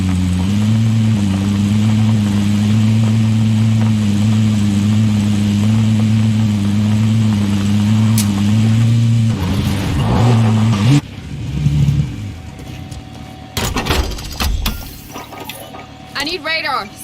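A game car engine in Call of Duty drones steadily at a constant pitch for several seconds, then wavers and gives way to clanks, mechanical rattles and bursts of noise.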